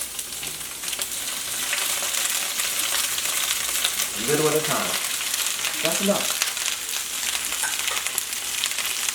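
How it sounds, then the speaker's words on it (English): Cabbage frying in a skillet, a loud steady sizzle throughout with brief stirring scrapes partway through, as a person speaks a few short words over it. "Literally frying the cabbage."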